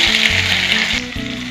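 Sliced onions hit hot mustard oil in a kadai, giving a close, steady crackling sizzle with a brief stirring clatter partway through.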